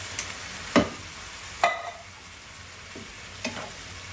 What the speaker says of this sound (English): I'm going to stir all that together and let it cook for a couple minutes